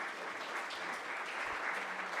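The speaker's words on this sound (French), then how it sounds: "je vous propose d'applaudir encore une fois Hélène Delay" A conference audience at a French-language keynote breaks into a dense, sustained round of applause, steady and full throughout with no voices rising above it.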